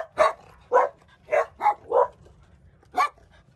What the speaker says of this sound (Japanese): ワンちゃん。